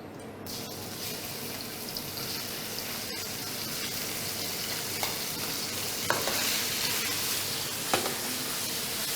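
Turkey sautéing in a high-temperature restaurant wok ringed with flame gives a steady, dense sizzle and hiss throughout, with a few faint scrapes and clinks rising briefly near the end.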